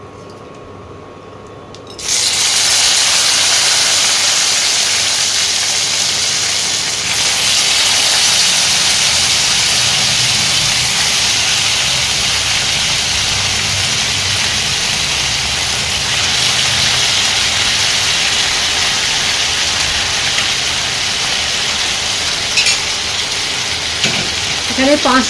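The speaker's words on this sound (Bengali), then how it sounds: "সেই মাংসটা একটু ভাজবো ঘিয়েতে।" Boiled mutton fries in ghee, a loud steady sizzle that starts abruptly after a short quiet moment and holds at a constant hiss throughout.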